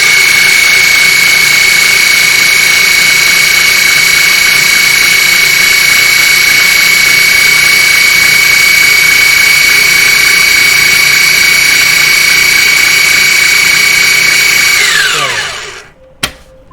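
A food processor blending chickpeas whirs loudly and steadily up close for about fifteen seconds with a constant high motor whine, then winds down quickly and stops, followed by a brief click.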